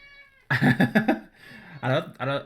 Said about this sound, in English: Oh, my cat, Kev, he's doing a little run in.